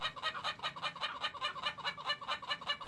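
Indonesian Ayam Ketawa laughing chicken at a crowing contest, giving a long, rapid rhythmic cackling crow of evenly spaced pulses, close and loud with no voices.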